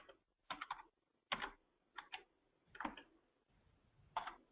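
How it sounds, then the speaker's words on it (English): Keys on a computer keyboard being tapped as a file name is entered, quick clusters of crisp clicks separated by short pauses, close and quiet. "and then type in your file name."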